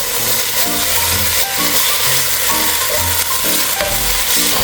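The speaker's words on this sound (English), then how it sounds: "we're gonna first start out by cooking out the pork" Ground pork frying in olive oil in a pan gives off a steady, loud sizzle and hiss, with a utensil stirring and scraping through it at intervals. No one speaks.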